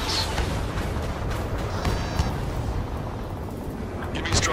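Gunfire and roaring jets from the Ace Combat 7 video game, with dull booms and bursts over a continuous rumbling roar and faint speech mixed in.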